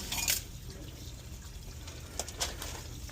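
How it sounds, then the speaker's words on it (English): Coolant drains from a 1993 Freightliner FLD 120 truck in a steady splashing, trickling flow, with a brief louder gush at the start and a couple of faint knocks near the end. "Drain that coolant"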